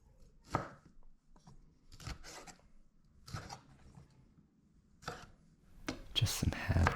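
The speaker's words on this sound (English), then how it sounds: "just a rough chop on that." A knife roughly chops vegetables on a cutting board while a cheesesteak sandwich is prepared: irregular bursts of several quick close thuds separated by pauses, with a faster flurry of cuts at the end.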